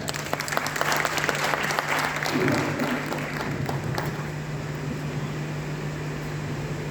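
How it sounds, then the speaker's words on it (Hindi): An audience at a poets' gathering (kavi sammelan) at Bundelkhand University in Jhansi breaks into steady applause, a dense wash of clapping lasting several seconds over a constant low electrical hum, with no talk. "एक बार मैं उनके लिए तालियां चाहता हूं"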